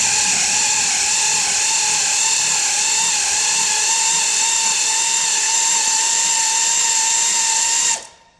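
A spark plug thread repair tool whines steadily as it is driven into the cylinder head of a 6.8-liter V10 Triton engine, continuous and loud for several seconds before cutting off abruptly.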